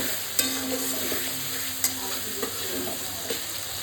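Spices with turmeric and red chilli sautéing in a pan for a boal fish curry, a steady close sizzle broken by several sharp spatula taps and stirring scrapes.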